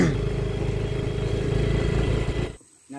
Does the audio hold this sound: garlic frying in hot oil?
no